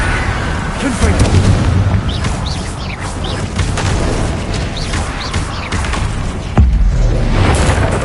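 A Confringo fire spell bursts in a Harry Potter video game, giving heavy booming explosions with crackling bursts over a rumbling battle din, loud and near throughout.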